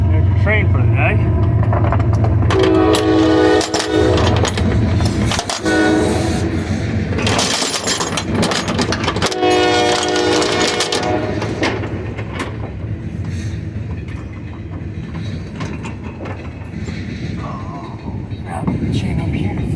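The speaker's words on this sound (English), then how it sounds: "there's your train for the day." A train passing near a truck being loaded with JLG man lifts, a loud continuous rumble with horn-like tonal blasts and clanking, fading gradually toward the end.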